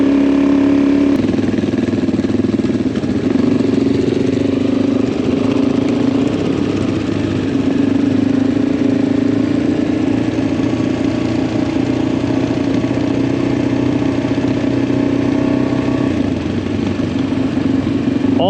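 Several adventure motorcycles idle together on a mountain top, a loud, continuous mid-pitched engine drone with clattering texture and steady rumble throughout.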